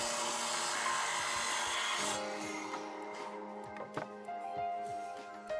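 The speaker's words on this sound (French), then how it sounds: "Les deux extrémités de la lame doivent être sciées afin d'obtenir une coupe et un angle parfait." A Twinson composite decking board has its ends sawn, giving steady rasping strokes with a bright tonal ring, close and fairly quiet, thinning out after a couple of seconds.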